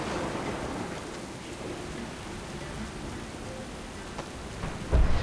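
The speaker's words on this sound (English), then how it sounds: "This storm will soon overwhelm us" Steady heavy rain and rumbling thunder from a World of Warcraft storm fill the scene, a dense continuous wash with a louder crack or thump near the end, no voices.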